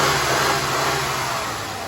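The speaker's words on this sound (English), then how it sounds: "And then as I rev the engine," A car engine revs in a garage while a crankshaft sensor is tested, a loud, steady mid-pitched roar sitting close, easing off gradually toward the end.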